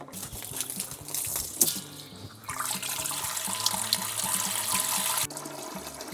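Well water runs from a tap into a large pot being filled for home-brewed beer: a steady splashing stream that grows louder and fuller midway, then cuts off abruptly near the end.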